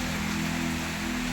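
Unseasonal rain comes down in sunshine over a Khandesh farmyard, an even, continuous patter of drops that stays steady through the brief moment with no voices.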